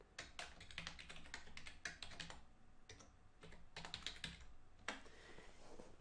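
Fingers typing a password on a computer keyboard: a short, irregular run of close, soft key taps with small pauses between clusters.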